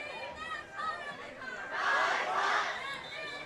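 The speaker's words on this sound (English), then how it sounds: "The Quinta crowd making some noise here." Football crowd at a varsity game between Bolsa Grande and La Quinta, a broad wash of chatter and shouting from many people that swells louder midway, then eases slightly.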